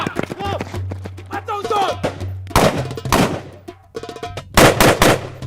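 Gunshots crack out at a firing range in a West Bank settlement, a few sharp loud reports arriving in short bursts after a stretch where a voice talks.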